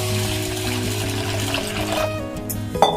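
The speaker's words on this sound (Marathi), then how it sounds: "तांदळात पाणी ओतून मी स्वच्छ धुवून घेते." Basmati rice is washed in water in a pot, with a steady wash of running and sloshing water, a low hum beneath it, and a brief splash near the end, close by with no speech.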